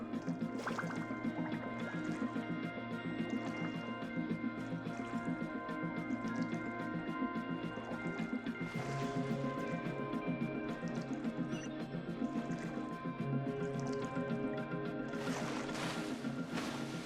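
Water filling and rising inside a Genshin Impact game level, a steady continuous liquid wash with soft drips and splashes running throughout under game music, swelling brighter near the end.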